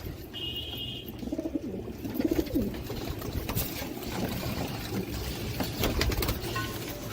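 Pigeons cooing in a loft: soft, low throaty coos under a busy background of rustling and ambient noise, steady and close throughout.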